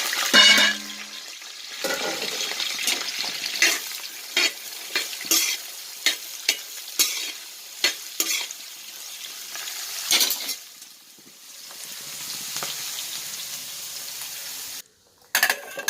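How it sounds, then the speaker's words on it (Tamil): Fennel, cardamom and cinnamon sizzling in coconut oil and ghee for prawn biryani, a steady close frying hiss broken by regular spoon scrapes and taps against the pan, ending with a brief pause and no talking. "சோம்பு, ஏலக்காய் வதங்கிட்டு இருக்கு இறால் பிரியாணி செய்யறதுக்கு"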